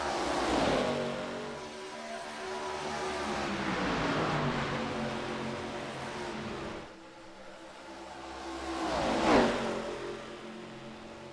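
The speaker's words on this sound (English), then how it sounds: "Now he is clear of Payson Lindsay, and Matthew White just got passed by Chandler." Race cars at Charlotte Motor Speedway in a racing video game roar past in waves, with engines rising and falling as each car passes and a loud, close pass near the end, and no talking.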